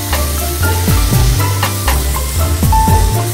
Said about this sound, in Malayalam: അപ്പോൾ നന്നായിട്ട് നമുക്കിതൊന്ന് വഴറ്റിയെടുക്കാം